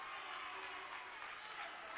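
A boys' high school basketball crowd at Durfee versus New Bedford roars and applauds steadily after a three-pointer, a broad, sustained wash of cheering from the stands.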